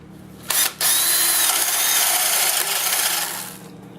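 A 1.5-inch paddle bit bores into wood with a power drill, a loud continuous whirring grind lasting about three seconds after a brief start-stop burst, then winding down; no talking.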